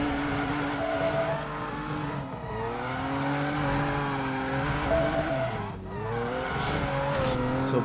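A car in Driver: San Francisco revs hard while boosting and drifts, its engine note rising and dipping through gear shifts under a continuous tire squeal, loud and close throughout.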